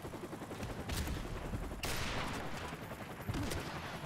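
M21 rifle fire and surrounding gunfight in Modern Warfare Remastered, a dense stream of cracking shots and bursts over a steady game background, with one sharp burst standing out midway; no one talks.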